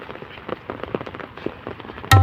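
Heavy rain falls as an uneven patter of drops striking surfaces, moderately loud, and ends in a sudden loud thump.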